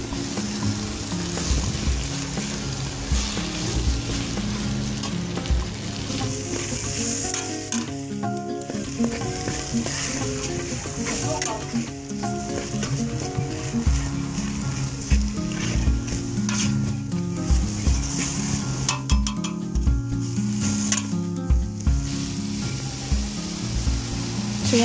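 Salmon head sinigang, a Filipino sour soup, sizzles steadily in a pot as miso is stirred in. Loud, continuous frying with scraping stirring strokes throughout, and no talking.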